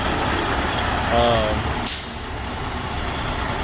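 A large truck rumbles past nearby, loud at first, then a sharp hiss of air brakes before the noise settles into a lower roadside drone.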